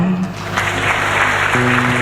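Applause welcomes students at a school parents' homage ceremony at a private high school, a dense steady patter of many hands clapping together, filling the short moment without a break.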